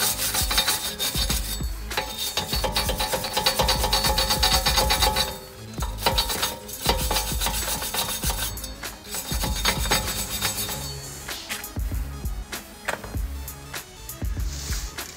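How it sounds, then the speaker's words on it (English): A wire brush scrubs rust off the front brake rotor hub of an Acura TL, a loud, continuous harsh scraping with a brief pause midway, close up and without speech. "Use a wire brush before you putting a rotor on this hub. So make sure clean all the rust."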